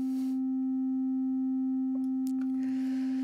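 A pure synthesizer sine wave tone from a VCV Rack modular patch holds steady and loud from start to finish, with a few faint clicks near the end.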